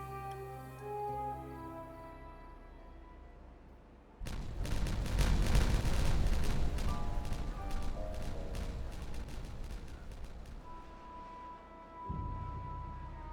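Dynamite explosions in the video game Timberborn set off over background music: a sudden loud blast, then a dense, crackling rumble of overlapping detonations that rolls on for several seconds before fading back to the music.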